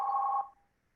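A single steady telephone tone sounds in an office. It is fairly loud for under half a second, then cuts off and fades into quiet.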